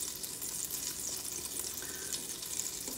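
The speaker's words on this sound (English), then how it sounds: "we're going to throw in this European butter and let it melt in there" European butter melting in a hot pan gives a constant, dense frying hiss close by, steady throughout with no talking.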